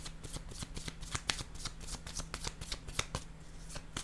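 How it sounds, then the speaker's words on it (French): Tarot cards are shuffled and laid down, giving a steady run of crisp card riffles and slaps. The sound is close and fairly quiet, with one sharper snap standing out. No one speaks. "Je vais déposer une carte."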